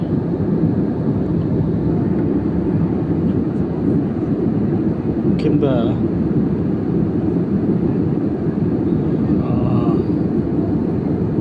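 Steady, loud airplane cabin roar in a night flight, a constant low rumble throughout, with a brief faint voice partway through.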